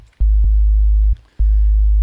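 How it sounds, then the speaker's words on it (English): A loud, clean sine wave sub bass synth plays two deep sustained notes separated by short gaps, with a pure low tone and no other sounds. "super easy sine wave sub bass."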